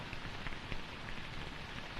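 Rain falling steadily, a dense, even patter of drops on a surface that fills the whole stretch at low volume, with no voices.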